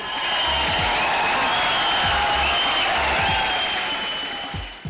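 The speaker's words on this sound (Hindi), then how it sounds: "वो देखो सब तालियां बजा रहे हैं, सब शोर पा रहे हैं" Studio audience applause on a television talk show, a continuous wash of clapping at moderate level that holds steady and fades near the end.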